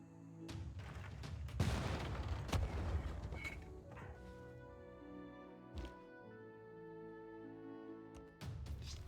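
Field cannons in Civilization VI fire in a cluster of heavy booms and crackling blasts, then a ringing tonal fade with a couple of later thuds, fairly loud and with no talk.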